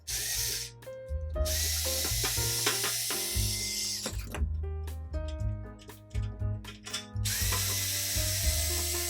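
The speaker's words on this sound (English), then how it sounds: "I need to find the screws and remove the cover." Close, continuous ratcheting clicks from a hand tool loosening screws on a dishwasher's metal bottom cover, in rapid bursts with brief pauses and a few metallic knocks.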